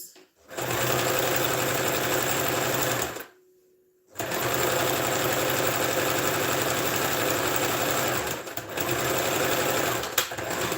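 A sewing machine runs steadily while stitching fabric, a loud continuous mechanical whir that stops briefly for about a second before resuming, with a faint voice in the background.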